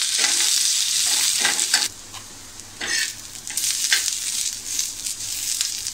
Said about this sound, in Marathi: हे आपल्याला थोडं गुलाबी रंग येईपर्यंत परतून घ्यायचं आहे